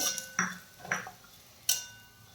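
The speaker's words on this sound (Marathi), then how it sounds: "आता आपण यामध्ये घालत आहोत खोबऱ्याचा खीस हा पण आपल्याला छान परतून घ्यायचा आहे" Grated coconut being roasted and stirred in a pan for poha laddu, with three or four distinct metallic clinks of a spoon against the pan amid soft scraping, close and fairly quiet.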